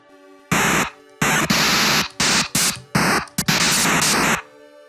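Harsh synthetic NES noise-channel static bursts made in FamiTracker, in short blocks starting and stopping abruptly in an irregular rhythm, loud and hissy with no clear pitch.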